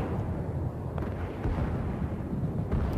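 Ship guns in World of Warships fire armor-piercing shells in a continuous loud, booming barrage, heavy rumbling blasts overlapping one another with no voices.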